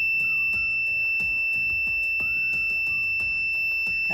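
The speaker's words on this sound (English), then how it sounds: "and buzzer is the beeping." An ESP32 fire-alert buzzer beeps in a steady, rapid pulsing pattern, loud and close, with a sustained high electronic tone running alongside the beeps and no talking.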